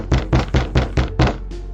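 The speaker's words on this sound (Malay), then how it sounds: "tiba-tiba pintu utama diketuk kuat." Loud, heavy knocking on a main front door at night, six evenly spaced thuds in quick succession, close and forceful, with no voices.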